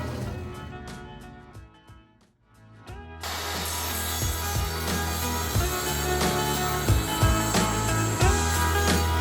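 A hand saw cuts through wood trim for a frame around a TV on a brick fireplace, with a few quiet strokes, a short pause, then steady, loud back-and-forth rasping strokes.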